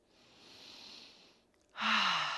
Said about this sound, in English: Taking deep breaths into your belly